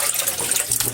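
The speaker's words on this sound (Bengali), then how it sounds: "এখানে আমি লবণ দিয়ে এই মাছগুলো সবগুলো মাছই ধুবো লবণ দিয়ে।" Fish being washed with salt under running water, a steady close splashing and trickling flow with no voices.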